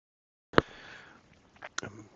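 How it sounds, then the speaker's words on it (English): A person blows their nose in one sharp, loud burst, followed by a trailing exhale and two shorter snorts or sniffs nearby. "I have to blow my nose"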